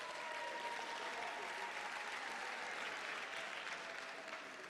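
Applause from a graduation ceremony audience, a dense, steady patter of many hands clapping together for nearly five seconds, moderately distant and even in level, without speech over it.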